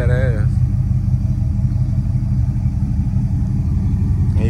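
A 1986 Buick Regal Limited G-body with a big block V8 and Holley EFI idles with a loud, steady, close low rumble, and a voice is heard briefly at the start.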